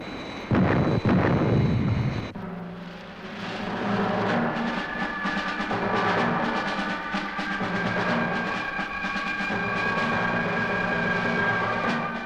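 In a Thunderbirds episode, the Fireflash aircraft opens with a loud roaring blast and then climbs toward the sound barrier, settling into a sustained whining jet drone with tonal overtones, steady and close throughout.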